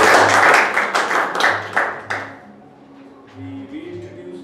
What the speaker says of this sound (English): Big round of applause to